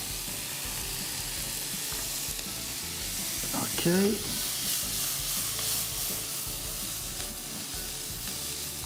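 Steady oil sizzle from an anchovy frying in a pan, loud and continuous, with a brief stir and a single short spoken word near the middle.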